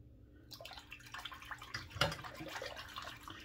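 Water splashes and runs while soap is rinsed off a face after a shave with a $7 dollar-store Shavely razor, a steady close wash with a few louder splashes.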